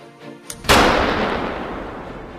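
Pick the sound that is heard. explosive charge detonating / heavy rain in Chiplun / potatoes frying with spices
explosive charge detonating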